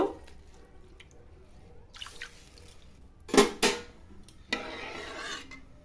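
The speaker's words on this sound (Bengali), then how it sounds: "এই জলের মধ্যে এবার ডালটা দিয়ে দিব।" Moong dal goes into a pot of water to boil: quiet rustles at first, then a short sharp rush of pouring grains and splashes, followed by a softer trickling hiss as the dal settles.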